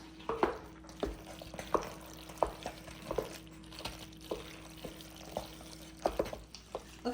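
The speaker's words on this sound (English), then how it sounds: "You just wanna stir it and cover them all right?" Elbow macaroni stirred in a pot for a healthy mac and cheese, with a spoon knocking the pot in a steady run of light clacks and scrapes about once a second, close and moderately loud.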